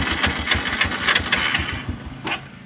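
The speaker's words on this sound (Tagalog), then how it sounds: "gumagana yung makina natin" A Honda Wave 125 motorcycle engine idling steadily up close, a quick even putter with a slight dip in pace near the end, no voices over it.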